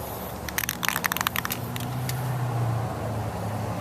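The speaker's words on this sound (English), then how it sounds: "I'm going to shake it well, at least 30 seconds with the ball rattling in the can." A rattle can of spray primer being shaken to refresh peeling paint on a Crown Victoria P71, the mixing ball clacking in a quick burst of sharp rattles, then a steady low hum and rumble underneath.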